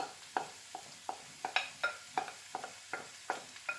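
Onions in olive oil for chicken curry scrape and clack as they are stirred in a pan, about a dozen quiet, evenly spaced strokes over a faint background with no voices.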